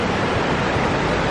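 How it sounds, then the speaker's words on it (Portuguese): Water rushes steadily from a waterfall at an abandoned power plant, a constant broadband roar that fills the short stretch without pause and with no voices over it. "Gente, escuta o barulhinho da água."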